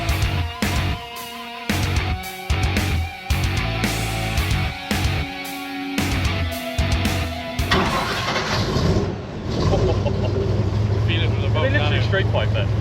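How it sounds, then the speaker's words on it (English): A V8-powered airboat engine with straight pipes starts and rumbles loudly and close by, surging in choppy bursts before settling into a steady roar, with voices talking over it. "So you've got a big V8 rumbling behind you."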